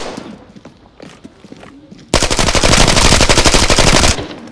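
Rapid automatic gunfire in the video game Arena Breakout: Infinite erupts after a quieter stretch of faint shuffling, sustained loud bursts for about two seconds before stopping abruptly.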